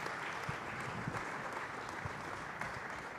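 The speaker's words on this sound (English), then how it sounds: "I want to certainly give a round of applause and thank my panelists for all of their input" An audience applauds conference panelists at an opportunity zone summit, a steady wash of many hands clapping at moderate distance throughout, with no voices rising above it.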